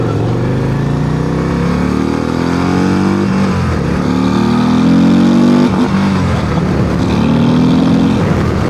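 A 2025 Harley-Davidson CVO Road Glide ST big-twin bagger rated 127 horsepower, revved hard out on the street, its loud engine rising and falling through several throttle blips with no talk over it.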